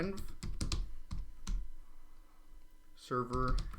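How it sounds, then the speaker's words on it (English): Short bursts of keystrokes on a computer keyboard while entering a command for a Django Python web project, clustered clicks near at hand alternating with a voice talking over them. "we're just going to type the name of our environment"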